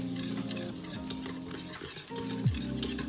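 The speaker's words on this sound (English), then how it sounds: "I am going to whisk all of this goodness together" Garbanzo bean flour roux being whisked in a pot, a steady scraping stir with faint sizzling beneath and a couple of brighter clinks of the whisk against the metal.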